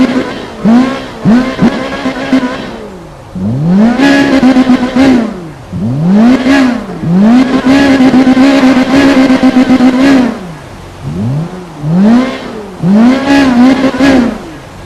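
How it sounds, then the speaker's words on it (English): A Ferrari 458 Spider engine in Need for Speed Rivals revs repeatedly in loud, rising-and-falling sweeps, with several separate bursts of high-pitched acceleration and brief drops between them, heard alone without talk. "let me show you how the engine sounds really quick."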